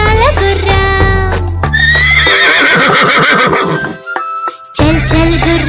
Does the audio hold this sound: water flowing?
no